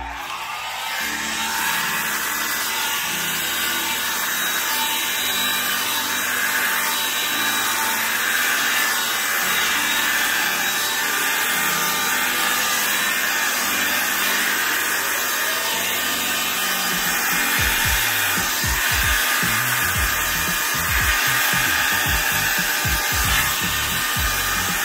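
An air blower on a variable setting pushes air across wet paint for an acrylic pour, a steady loud whooshing hiss that holds throughout with a slight rise near the end, no voices.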